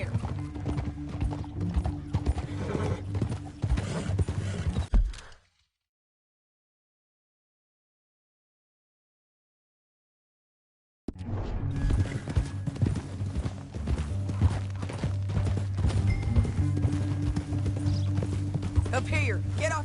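Horse hooves clip-clopping steadily in the video game Red Dead Redemption, under music and talk, cutting to silence midway before the hoofbeats and music resume.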